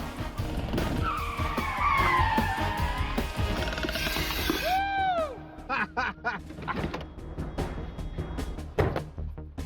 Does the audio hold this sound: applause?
no